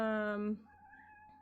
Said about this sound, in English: Oh, my cat is crying for me.